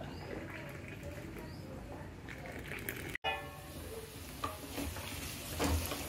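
Sliced onions frying in oil for a home breakfast of poori, a steady close sizzle with occasional stirring clinks, running continuously with a brief dropout near the middle.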